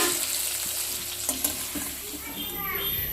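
Spiced chicken frying in a pan while being stirred, a steady sizzle with scraping and clattering of the utensil, a few sharp knocks, no talking.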